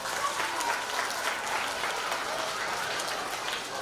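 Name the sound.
school children giving a round of applause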